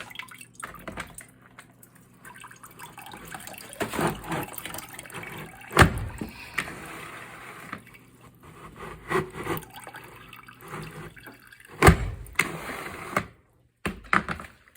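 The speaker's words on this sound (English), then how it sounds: "So all the water runs back through this side" Water from a Tethys mop bucket sloshes and trickles back through the bucket in irregular splashes, with a few sharp louder knocks and clatters of the mop against the plastic along the way.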